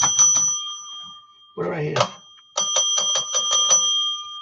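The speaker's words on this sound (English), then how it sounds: "Yeah, I can ring the bell." Bright metallic bell dings rung repeatedly in quick bursts, with a pause where a person speaks briefly between the ringing.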